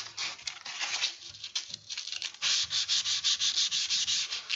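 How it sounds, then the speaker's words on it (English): Steady scratchy sanding strokes on a wood surface, growing louder and more rhythmic toward the end, with no voices. "I'm going to give it a quick sanding down."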